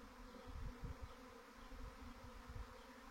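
A swarm of honeybees flies overhead outdoors, producing a faint, continuous droning buzz with soft low rumbles and no voices.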